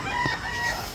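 A rooster lets out a short, close crow with a clear harmonic tone, filling the whole brief moment against faint outdoor background.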